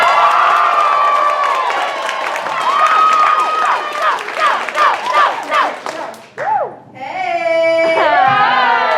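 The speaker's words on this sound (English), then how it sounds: "Get your hands together and clap and keep putting them together back and forth just like that" Lively comedy club audience clapping and cheering to welcome a stand-up comedian, a dense wash of applause with rhythmic claps and shouts before a single voice starts talking near the end.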